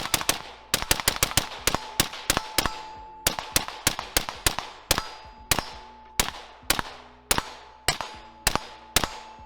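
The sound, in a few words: suppressed SIG Sauer MCX rifle firing M193 5.56 ammo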